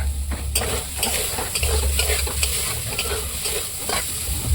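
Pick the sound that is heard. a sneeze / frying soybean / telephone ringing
frying soybean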